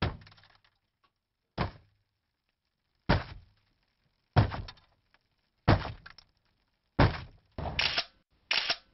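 Someone strikes a Supaglass security window again and again, six or seven loud, sharp cracking thuds spaced about a second apart that come faster toward the end, with no talking.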